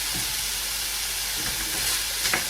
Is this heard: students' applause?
no